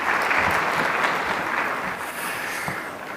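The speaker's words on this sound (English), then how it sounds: "A huge round of applause for them." Audience applause for the panelists at a medtech conference session: a burst of dense, fairly loud clapping from a crowd that holds steady for about three seconds, with no talking over it.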